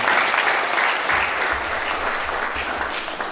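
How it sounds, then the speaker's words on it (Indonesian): Church congregation applauding together, a dense steady clatter of many hands that fills the room without letup. "Berikan tepuk tangan kita untuk Tuhan."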